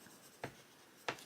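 Colored pencil scratching on paper while a botanical flower drawing is worked, with two short, brisk strokes standing out over a quiet background and no talking.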